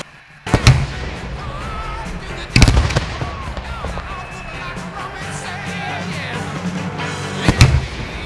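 Fireworks at an Oakfest show go off in three loud, sharp bursts spaced a couple of seconds apart, each trailing into a crackling rumble, with faint crowd noise throughout.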